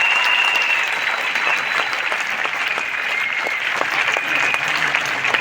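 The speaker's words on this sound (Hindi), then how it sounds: "एक बार जोरदार तालियां।" Enthusiastic audience applause at a DXN company business meeting in India, a loud, sustained wash of many hands clapping steadily for over five seconds with no talking.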